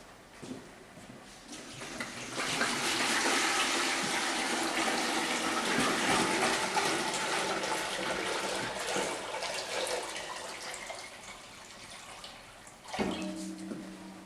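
Ten litres of osmosed water gush into a 10-litre laboratory pot holding BTS extender, a loud, steady rushing pour lasting about ten seconds before tapering off, followed by a short clunk.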